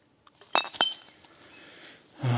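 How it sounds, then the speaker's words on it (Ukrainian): Glass bottles and broken glass clink at a forest dump, a few sharp close knocks and rattles followed by quiet rustling. "Трапляється дуже багато битого скла."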